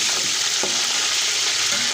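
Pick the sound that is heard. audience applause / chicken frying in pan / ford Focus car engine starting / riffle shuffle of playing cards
chicken frying in pan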